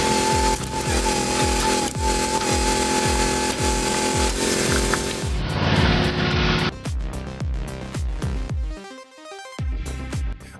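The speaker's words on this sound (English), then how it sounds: "The Mobile Co. chainsaw stands out immediately" A Mobile Co. chainsaw, part of a homemade firewood-cutting machine, cuts loudly and steadily through wood with a rhythmic series of pulsing bites before its tone shifts as the cut finishes, with no talk.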